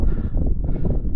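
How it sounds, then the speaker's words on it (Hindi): Heavy wind buffeting the microphone in Spiti, a dense low roar with gusty fluctuations and no voices. "बहुत तेज़ हवा है।"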